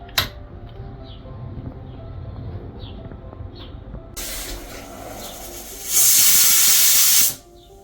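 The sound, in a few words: pressure cooker releasing steam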